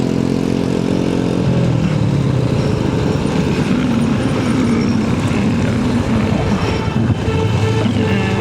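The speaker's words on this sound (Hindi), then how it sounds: "रिक्शे, बाइक्स, गाड़ियाँ सारा मिक्स होकर चला जा रहे हैं" Dense mixed traffic of motorcycles, rickshaws and cars on Shaikhupura Road in Faisalabad, Pakistan, makes a constant loud rumble of engines close around, with droning motors rising and falling and no talk.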